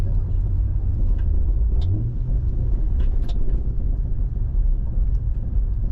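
A manual car on the move, its engine and road rumble steady and close throughout, with a brief pitch change partway as the clutch comes out during a gear change into third; no talk over it.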